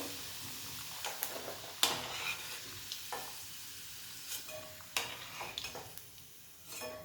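Fried potato pieces are lifted out of hot oil in a home kitchen. A soft, steady sizzle runs under faint scraping and clicking from a spoon against the pan.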